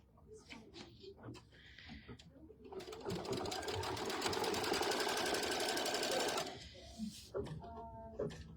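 A sewing machine stitches pieced fabric for a fall trivet, a steady rapid whir running for several seconds in the middle, with a voice talking before and after and a few light handling clicks.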